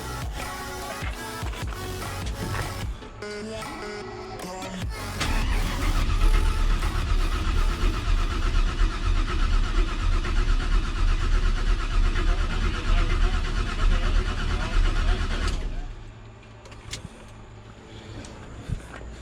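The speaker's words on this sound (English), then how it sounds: "I'm going to turn it over a little bit, try to get some oil" A Chevrolet C10 pickup engine with a Texas Speed Stage 3 turbo cam, cold pack just unplugged, is cranked over at close range, a loud steady mechanical churn lasting about ten seconds after some shorter clanks, then stopping.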